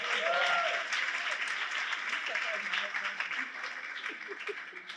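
Sustained applause from a crowd, steady clapping that tapers slightly toward the end, with some voices mixed in.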